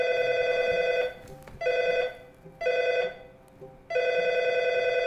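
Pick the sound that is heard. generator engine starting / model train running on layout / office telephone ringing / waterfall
office telephone ringing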